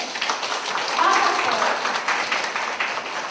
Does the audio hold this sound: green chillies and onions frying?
no